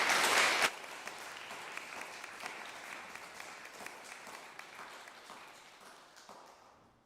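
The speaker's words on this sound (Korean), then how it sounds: "우리 박수로 맞이하겠습니다." A church congregation applauds, starting loud with a burst of clapping and then continuing steadily before gradually fading out.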